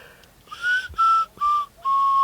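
A person whistles a short tune of four clear, steady notes, close and loud, with quiet outdoor background between them.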